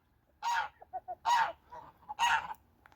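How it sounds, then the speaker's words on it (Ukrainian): A goose in a farmyard honks three loud, harsh blasts spaced about a second apart, with smaller clucks and quacks from other poultry in the gaps between them. "Гуска кричить."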